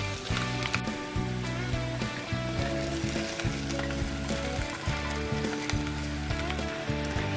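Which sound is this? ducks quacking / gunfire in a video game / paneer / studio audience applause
paneer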